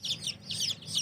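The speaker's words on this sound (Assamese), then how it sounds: "এয়া আমাৰ লোকেল মুৰ্গী পোৱালি ওলাই আছে" Young local chicks at a poultry farm and hatchery give four quick, high chirping calls in an even rhythm, close and fairly loud, with no voices over them.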